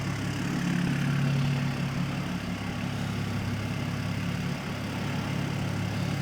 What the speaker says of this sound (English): This engine cover's all broke, so that's rattling like mad.